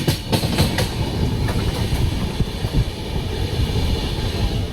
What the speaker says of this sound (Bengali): 7:25 চলে আসলো আমাদের ট্রেন দার্জিলিং মেল।